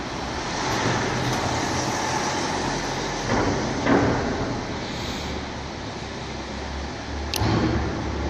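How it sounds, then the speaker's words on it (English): A car drives past on a nearby road, swelling into a broad whoosh midway and then fading, followed by a shorter rush of traffic near the end over constant roadside background noise, with no talking. "Another car is coming here."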